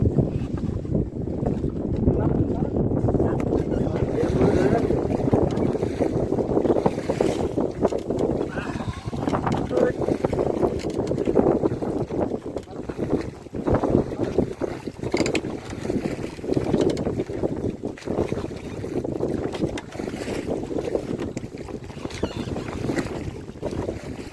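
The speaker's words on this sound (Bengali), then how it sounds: "প্রচণ্ড হাওয়া হচ্ছে, জানি না আমাদের কথা শোনা যাবে কি না" On a fishing boat in the Sundarbans, a strong wind roars across the microphone in a loud, unbroken rush that lasts throughout, with faint boat and water noise underneath.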